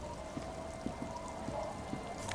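Steady rain from the video game Disco Elysium, a soft continuous hiss with faint scattered drops, low and even throughout, no voices.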